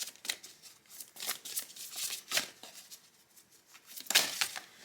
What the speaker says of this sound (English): I feel like I need to shuffle this one one more time.